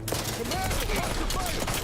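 Gunfire from the sci-fi video game OutWorlds 2 crackles continuously through a dense, noisy combat mix, with chopping impacts and game sounds layered throughout.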